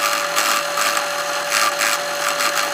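A drill press cuts metal while repairing a box truck cabinet latch, giving a steady motor whine with a constant tone and rhythmic gritty bursts of chatter from the cut, close and fairly loud.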